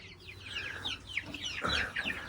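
Young barnyard-mix chicks, some feather-footed, cluck and peep in a coop, with dense overlapping calls running steadily throughout at close range and no one speaking.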